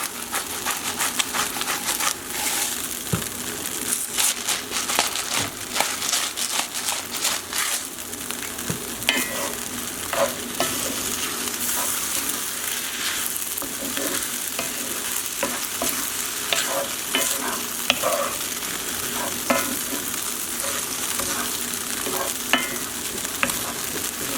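A utensil stirs food sizzling in a frying pan, with salt and pepper being mixed in while cooking fennel and breadcrumbs for linguine; scraping strokes come in an irregular rhythm over a constant frying hiss, close and fairly loud, with no talk.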